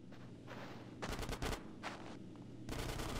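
Bursts of gunfire in a Grand Theft Auto San Andreas mission shootout, rapid volleys of shots in several clusters, sharp and fairly distant, with no speech.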